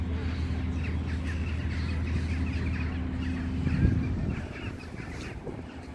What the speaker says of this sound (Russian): Птицы возмущаются.